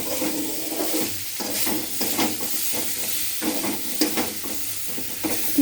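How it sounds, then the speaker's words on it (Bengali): Fish curry of sole and koi fish with potato, plantain and greens being stirred in a pan after coriander powder is added: steady scraping strokes over a continuous sizzle and hiss, close and fairly loud, with occasional clinks of the utensil against the pan. "বন্ধুরা দেখো আমি একটু ধনের গুঁড়ো দিয়ে নাড়াচাড়া করে নেব।"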